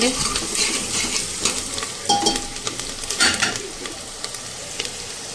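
Chopped onions frying in a pan toward golden brown for aloo badi sabzi, a steady sizzle with a spoon scraping and clinking against the pan in irregular bursts, close up and without talk.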